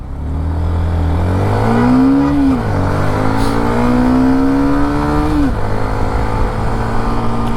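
A Hero Xtreme 125 motorcycle accelerates hard through the gears, its engine note climbing loud and close, dropping at each shift, then rising again.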